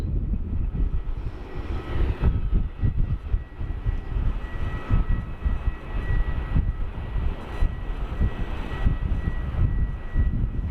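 A UPS Boeing 747 sits at Sydney Airport with a steady, far-off jet engine roar that rumbles without a break the whole time. No voices come through.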